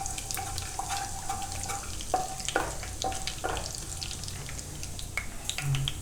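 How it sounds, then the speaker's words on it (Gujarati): Cumin seeds crackle and sizzle in hot oil in a pan, a steady close frying hiss with scattered pops, brief tonal squeaks and some stirring. "હવે જોઈ લે હું આ ગરમ થઈ ગયું, તેમાં આપણે જીરું નાખીશું"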